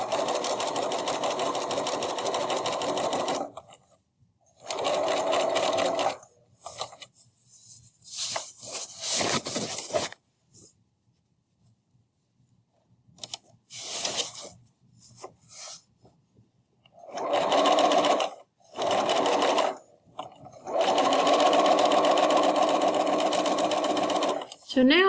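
A sewing machine topstitches the hem of a reusable tote bag, steady whirring runs of stitching broken by several pauses and shorter bursts, close and fairly loud.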